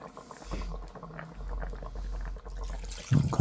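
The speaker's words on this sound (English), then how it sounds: "add some water inside of here" Water is poured into a pot of beef short ribs on the stovetop, a steady liquid splashing and pattering, close, that ends with a louder clatter.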